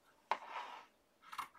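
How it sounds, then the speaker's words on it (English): Two short crisp snips of large sharp scissors cutting paper scraps for craft tags, close up, with a brief pause between them and no talking. "I need my big scissors."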